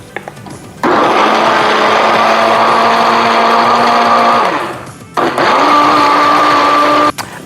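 A blender blitzes Norwegian pancake batter made with all-purpose flour. It runs as a loud, close, steady whir for about four seconds, winds down, then starts again for a second shorter burst before cutting off.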